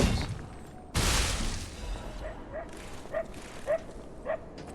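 Dogs in the video game Lies of P give a series of short, spaced yips and barks at moderate distance, following a loud burst of game noise near the start, with background ambience between barks.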